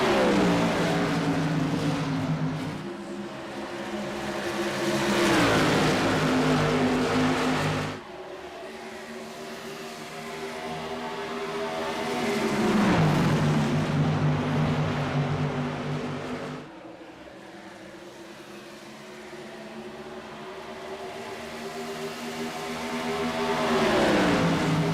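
Modified race cars roar around an Iowa oval, engines rising and falling as the pack sweeps past in repeated loud waves, with no talk over the motors.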